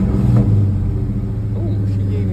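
A New Edge Ford Mustang's engine idles with a low, steady rumble and a brief rev gurgle near the start, while a person talks over it.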